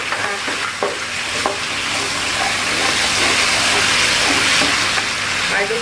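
Green chilies and green tomatoes stir-fried in a hot pan, a steady sizzle throughout with occasional scrapes and clicks of a spatula against the metal, fairly close and loud, with no talking.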